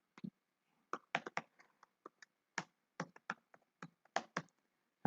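Someone types an email address on a computer keyboard, irregular bursts of close, crisp key clicks with short pauses between groups of keystrokes, in an otherwise quiet room.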